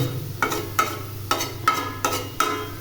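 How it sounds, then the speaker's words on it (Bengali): Leftover cooked white rice being stir-fried in a pan, with sizzling and about six evenly spaced scraping stirs of a spatula, close and clear. "তো এগুলো একটু গরম করে ভেজে তারপর আমি একটু খাবো"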